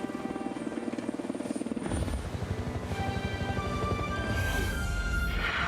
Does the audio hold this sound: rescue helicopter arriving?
yes